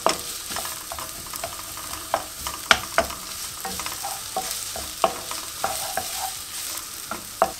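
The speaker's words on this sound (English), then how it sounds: "we're gonna put our onions in there. And we are gonna let that cook for a bit." Onions fry in a pan for a Mauritian chicken curry, a continuous close sizzle broken by frequent clicks and scrapes of a utensil stirring them, with no talking.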